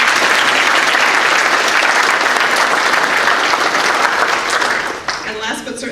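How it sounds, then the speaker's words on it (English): Sustained applause from a conference luncheon audience, dense and steady for about five seconds before thinning out and fading near the end. "So let's give a round of applause for Amy."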